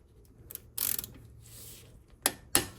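A 14mm socket on a ratchet loosens the front brake caliper bolts of a Lexus CT200h: quiet clicks and metallic scrapes, then two sharp ratchet clacks near the end, close and alone.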